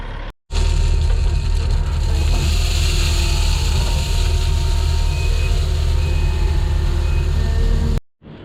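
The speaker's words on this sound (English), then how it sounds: "get in the skid steer and throw some stone in the bottom of the septic" A skid steer engine runs loudly and steadily at close range while it loads stone into the bottom of a septic tank, with a brief cut-off at the start and the end.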